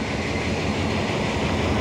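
A passenger train on the line from Sungai Kolok to Bangkok in Thailand, heard from inside the rear carriage, gives a steady, loud, broadband rumble and roar of wheels on rails with no let-up.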